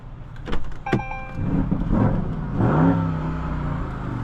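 A 2022 Porsche Cayenne Turbo S E-Hybrid runs up loudly, with a rising engine note after some clicks and whirring at the start.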